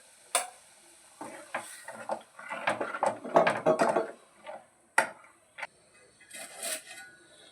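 Kerala fish curry with kudampuli (Malabar tamarind) cooking on a stovetop pan, with scattered stirring scrapes, soft sizzling and a few clinks of utensils against the pot, fairly close and without talk.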